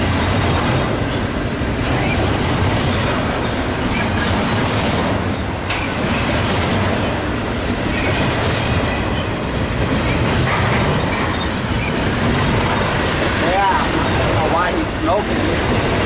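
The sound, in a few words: freight train passing on main line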